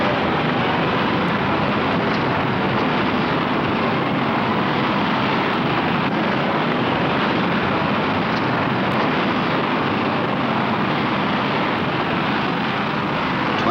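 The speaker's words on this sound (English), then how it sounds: "Seconds and 280 tons of fuel later, the rocket cleared the pad." The Apollo 10 rocket launching from the pad makes a dense, continuous roar of engine thrust, loud and steady throughout without any break or talking.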